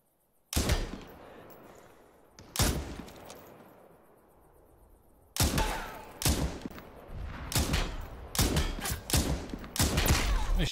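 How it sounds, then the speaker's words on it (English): Bursts of gunfire in the Super People battle royale game, loud clustered volleys of shots repeating across the span, with quieter rumbling gaps between them. "I'm taking some shots I probably shouldn't be taking"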